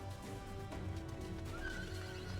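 A horse whinnies in the video game Final Fantasy XIV Shadowbringers, a clear neigh over quiet game background with soft clip-clop hoofbeats beneath it.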